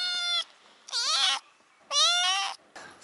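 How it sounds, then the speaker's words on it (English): A little cat meowing in an old-town alley in Mardin, Turkey, three loud, close, drawn-out meows with short pauses between, then a fainter fourth call. "Look at this little cat."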